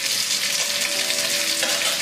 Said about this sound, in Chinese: 我们继续开猛火，继续煎它